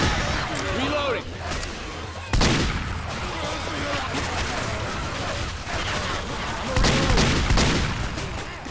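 Bursts of video game gunfire crackle in rapid volleys, with louder blasts near the start and end, under excited voices talking over the action.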